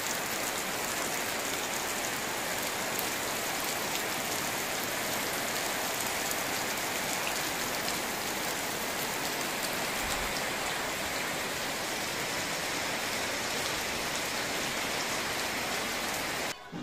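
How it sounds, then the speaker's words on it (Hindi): Steady heavy rain pours down in a dense, unbroken hiss, loud and close throughout with no voices. "फिर से बारिश शुरू हो गया इतना बड़ा से"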